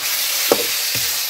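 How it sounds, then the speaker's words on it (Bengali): Chicken frying in a pan with ginger and garlic gives a steady, close sizzling hiss, broken by two soft stirring knocks, with no talking. "তো গাইস এতিয়া মাংসটো ভাজু"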